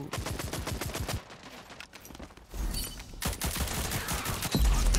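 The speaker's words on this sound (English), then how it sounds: "I'm shooting him and then, like the bullets are delayed or something" Rapid automatic gunfire from Rogue Company comes in dense bursts, with a short lull before heavier shooting and some low booms near the end.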